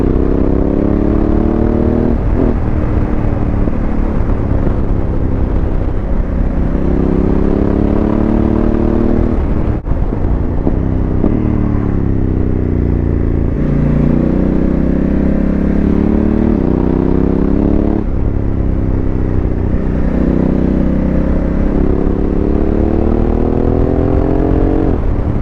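A Honda Africa Twin adventure motorcycle is heard while riding, its engine droning loudly and continuously with rising and falling pitch as it revs and shifts through gears, with wind noise throughout and no talk.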